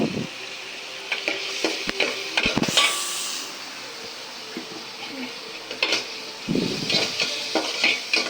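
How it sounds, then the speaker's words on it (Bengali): Onions frying in a pan as the base for a duck curry, a soft sizzle broken by intermittent stirring scrapes and utensil knocks against the pan, close and uneven. "এখন পেঁয়াজটা ভেজে নিতেছে"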